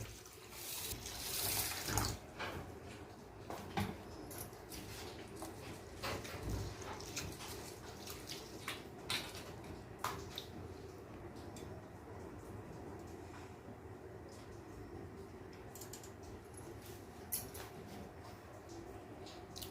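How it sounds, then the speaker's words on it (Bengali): Uncooked rice for vegetarian paneer fried rice is rinsed in a kitchen under a running tap. Water splashes and trickles steadily and softly, louder in the first couple of seconds, with occasional clatters as the grains are swirled. "সর্বপ্রথমে আগে আমি চালটিকে ভালো করে ধুয়ে নেব।"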